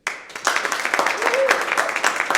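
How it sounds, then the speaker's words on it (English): A crowd applauds steadily, a dense wash of many hands clapping together for a couple of seconds, with murmured voices mixed underneath. "Please, audience, a big round of applause for Lea Fink."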